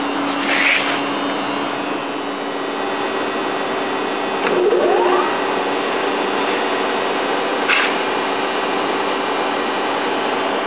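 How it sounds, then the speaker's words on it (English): A 10.5 by 24 inch Kent universal cylindrical grinder, its grinding wheel starting up and its 4-jaw chuck workhead engaging, heard as a steady loud machine hum with a rising whine midway and a few brief clicks. "We just heard the grinding wheel start up as well as the 4-jaw chuck workhead engage."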